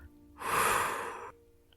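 One long, forceful exhale during a guided relaxation exercise, a breathy rushing whoosh lasting under a second that starts abruptly and cuts off cleanly, close and alone.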